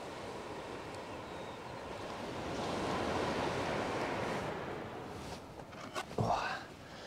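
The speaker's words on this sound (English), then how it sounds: "Oh, listen to that sea." Sea waves washing onto the shore on a fishing trip, a broad steady rushing surge that swells and recedes, heard close with some wind buffeting the microphone and no talk.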